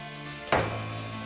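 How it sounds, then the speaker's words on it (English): A sudden burst of sizzling as fish hits hot sunflower oil, then a steady crackling fry continuing close by. "The fish just needs frying quickly in a little sunflower oil to give a crisp result."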